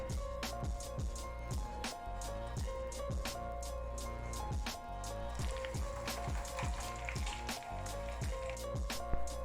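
Batter-dipped chicken pieces frying slowly in hot oil over a low flame, a faint continuous bubbling crackle with scattered soft pops and drips, no talking.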